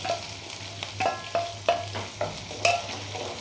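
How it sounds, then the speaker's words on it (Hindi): Chopped onion stirred and fried in a pan over a low gas flame, with soft steady sizzling broken by several sharp scraping strokes of a spoon at an irregular rhythm, close and fairly quiet. "इसे भी चलाएंगे, थोड़ा सा भूनेंगे।"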